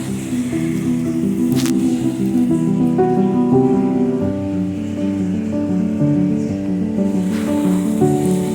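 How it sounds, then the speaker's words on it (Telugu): Water splashes and runs over a gas stove and kitchen countertop as they are washed down, a close, continuous wet rush with a low humming tone underneath. "ఇంకా ఎలాగో వాటర్ వేసి మొత్తం స్టవ్ కౌంటర్ టాప్ అంతా క్లీన్ చేశాను"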